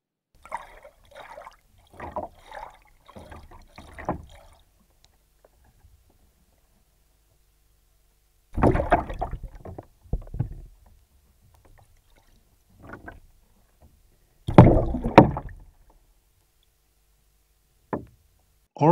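Heard through a homemade hydrophone submerged in a bathtub: muffled underwater knocks, thumps and bubbly splashes arrive in scattered bursts with near-silent gaps, some strikes deep and loud, others faint.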